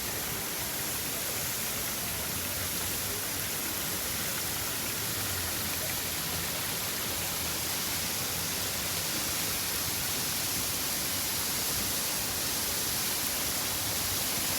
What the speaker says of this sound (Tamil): தண்ணி தடாகம்.